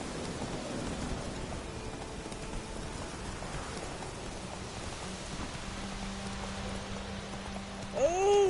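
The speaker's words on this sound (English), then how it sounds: "It's raining, it's pouring" Steady rain patters in The Witcher video game, a soft, even hiss throughout, with a brief rising tone near the end.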